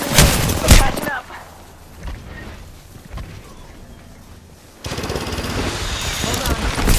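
Automatic weapon fire in the video game Apex Legends crackles in loud, rapid bursts, stopping after a second, then resuming as sustained close gunfire toward the end.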